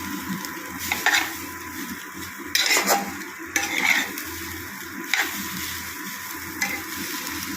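Broken-up egg frying in a pan, a continuous sizzle punctuated by repeated scraping and clinking strokes of a spatula as it is stirred, loud and close.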